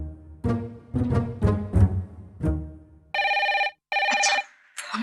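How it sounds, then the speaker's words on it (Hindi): A telephone rings in a steady electronic trill, several bursts in a row, loud and close, following a few moments of speech at the start. "अच्छा, फोन तो उठा ले।"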